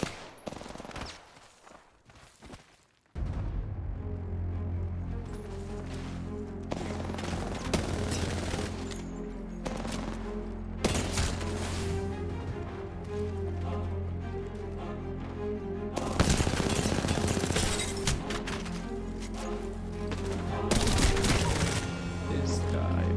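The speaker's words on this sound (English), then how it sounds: "I'm taking shots." Dense gunfire in a shooter video game, with sustained rapid automatic bursts and heavy shots layered over game audio, loud and nearly continuous after a quieter opening.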